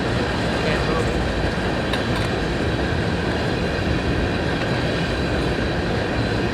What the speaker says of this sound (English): Sorry, it's a little loud. Train.